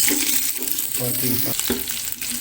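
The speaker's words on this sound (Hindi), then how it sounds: "अब हम लहसुन अदरक का पेस्ट जो है वो ऐड करेंगे और इसको थोड़ा सा भून लेंगे" Garlic-ginger paste sizzles and crackles in hot oil, a close, busy hiss with a spoon scraping and stirring through it.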